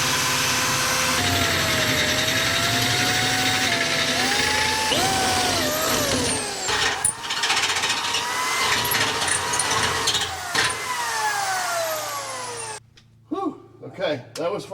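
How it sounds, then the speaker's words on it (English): A power drill whines loudly and steadily, its pitch sliding up and down as it bites into the metal of a Chevrolet Squarebody Suburban, then cuts out into short bursts near the end. "let's get a drill. Let's try blasting some holes in here."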